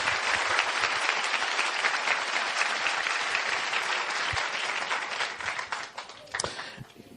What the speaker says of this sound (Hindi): क्या हम सब मिलके प्रभु के लिए एक अच्छी ताली बजा सकते हैं?